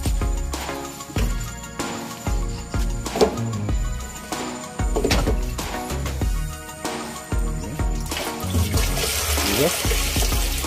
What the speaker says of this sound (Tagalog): Para din tayong may gripo dito.